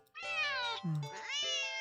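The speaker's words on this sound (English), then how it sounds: "the cat meows sharply at you and dashes off around the corner and into the hall" A cat in the video game Don't Take This Cat Home gives one sharp, drawn-out meow that rises and then falls, followed by a second meow, close and clear with no talking.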